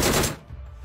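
A short, fast burst of automatic gunfire in the mobile battle-royale game PUBG Mobile as a bot is shot, loud at first and then trailing off within a second.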